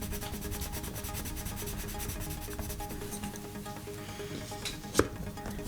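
A Derwent Lightfast red coloured pencil burnishes over paper in quick, close, repeated strokes, a continuous scratchy rubbing that ends in one sharper tap.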